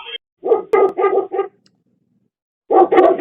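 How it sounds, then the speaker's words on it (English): A dog barks on a doorbell camera's night-vision feed outside after dark, a burst of four quick close barks, a pause, then two more. "He just likes to bark at the dark."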